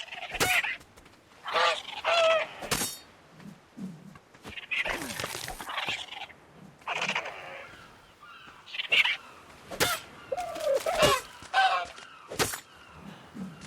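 Dodo birds in the survival game Ark Survival Evolved give repeated short honking, goose-like squawks in scattered bursts, with occasional sharp thuds and someone talking over parts of it.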